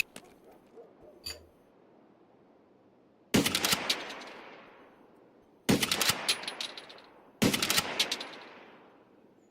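Three sharp bursts of automatic gunfire in Escape from Tarkov, each a rapid string of loud cracks trailing into reverberation, separated by short pauses after a quieter opening.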